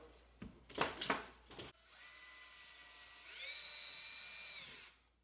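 A small drill pre-drills a stained glass panel frame, whirring steadily for several seconds after a few sharp knocks and clatters, its pitch rising slightly before cutting off.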